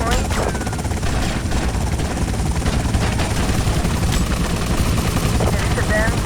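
A helicopter in a modded GTA Vice City game, its rotor drone droning loudly beneath bursts of gunfire, with a speaking voice over the din.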